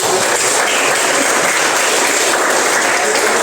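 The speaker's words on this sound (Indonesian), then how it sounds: "Tepuk tangan dulu buat ini" Loud, dense applause from a crowd, steady clapping throughout with no pauses.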